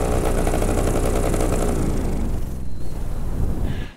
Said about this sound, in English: It has that really crackly exhaust tone to it.